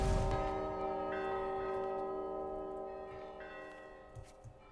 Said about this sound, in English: Come on, ring the bell. Make the bell go ding.